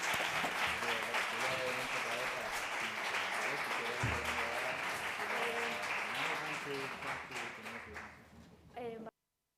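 Sustained applause from an audience at a literary event honoring translators, steady clapping for about nine seconds with a voice speaking faintly over it, before cutting off abruptly.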